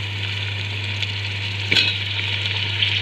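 Potatoes frying in a pan, a steady close sizzle with a low hum beneath and one brief scraping stir partway through.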